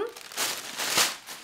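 Plastic product bag from a diamond painting kit crinkling and rustling in a few short bursts, close and moderately loud.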